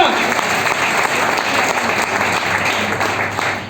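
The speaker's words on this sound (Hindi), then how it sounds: "अपने लिए एक बार जोरदार ताली बजा सकते हैं क्या?" Loud, steady applause from a seminar audience, a dense wash of many hands clapping continuously without a break, filling the room.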